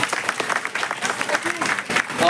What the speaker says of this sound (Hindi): उनका भी हम लोग तालियों से स्वागत कर लेते हैं।